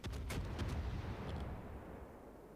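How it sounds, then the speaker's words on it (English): Naval gunfire from the cruiser Worcester in the World of Warships naval battle game, a rapid series of loud cannon reports booming back to back before fading into a low rumble. "the Worcester continues firing just to give them like an indication of where to shoot at in the smoke"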